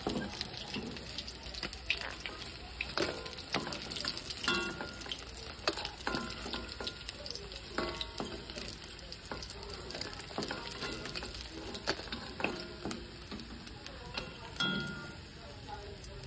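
Lote fish pakoras frying in hot oil, giving a continuous dense bubbling sizzle with scattered pops and clinks of a utensil against the pan throughout.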